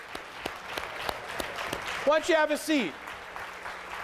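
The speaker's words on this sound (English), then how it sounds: "Give yourselves a round of applause." Scattered, fairly quiet clapping from an audience at a motivational keynote talk, with someone speaking briefly over it midway.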